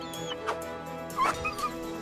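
A few short dog yips and whimpery barks pop out over a steady musical backing, brief and moderately close.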